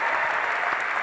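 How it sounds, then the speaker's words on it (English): An audience at a college campus event claps loudly and steadily, a dense, even wash of hands that fills the entire second without a break. "Give them a round of applause for that."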